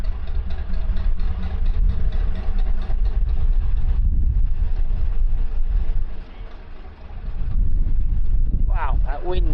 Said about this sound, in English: Wind's really getting up.